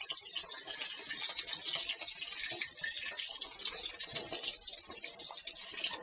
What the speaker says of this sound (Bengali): ফিশ ফ্রাই করা হচ্ছে